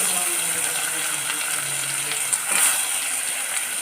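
Continuous splashing, trickling water as water is drained off cut potatoes, like pouring off in a sink, steady and close with a brief clatter near the end.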